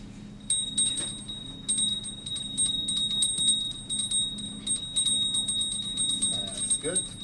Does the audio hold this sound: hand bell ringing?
yes